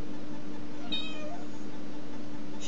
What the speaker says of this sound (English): Say hi, little kitty.